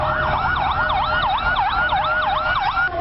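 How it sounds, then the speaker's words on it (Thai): A wailing ambulance siren sweeps up and down steadily, loud and close, over a low traffic rumble, cutting off just before the end. "หากได้ยินเสียงรถฉุกเฉินเปิดสัญญาณขอทางด้านหลัง"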